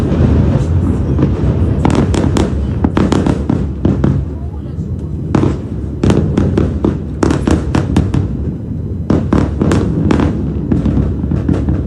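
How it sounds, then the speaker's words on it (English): Heavy, repeated blasts from bunker buster bombs hitting a site in Beirut, with dense rumbling booms and sharp cracks packed closely over the whole stretch, loud and continuous, with some voices mixed in. "a series of strikes with penetrating aerial bombs that were carried out on one of the group's bunkers in Beirut"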